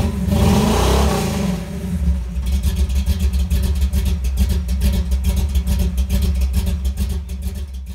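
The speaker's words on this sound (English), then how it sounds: "If you're wondering how this Flowmaster Super 44 muffler sound on the new 2019 Camaro SS, look no further." A 2019 Camaro SS with a Flowmaster Super 44 axle-back exhaust revs up loudly and close, its deep rumble holding through repeated throttle blips and a fluttering idle.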